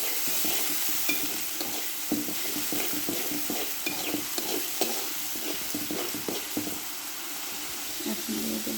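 Onions and onion paste sizzle in hot oil in a pan after chicken has been fried, with steady frying hiss and repeated scraping strokes of a spoon stirring close by.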